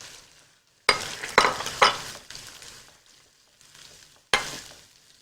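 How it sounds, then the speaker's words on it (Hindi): Tomato puree made from three blended tomatoes is added to a hot frying pan for prawn biryani, bursting into loud sizzling with several sharp stirring scrapes that fade into a softer fry. "थोड़ा सा फ्राई करने के बाद आपने इसमें शामिल करना है जो मेरे पास है टोमेटो प्योरी,"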